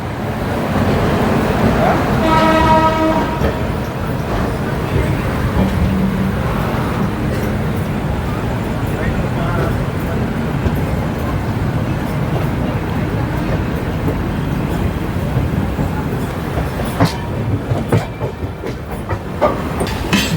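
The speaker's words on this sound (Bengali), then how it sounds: "10:55 আমাদের ট্রেন শিয়ালদা স্টেশনে 13 নম্বর প্ল্যাটফর্ম থেকে ছেড়ে যাচ্ছে" A long-distance superfast train pulls out of Sealdah station from platform 13, with a loud, steady rumble of wheels and carriages, a brief tonal horn-like blare early on and a dense wash of station noise throughout.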